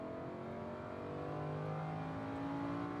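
A Lamborghini Huracan engine on a Las Vegas race track holds a steady, droning pull that builds slightly toward the end, heard from inside the car at moderate volume.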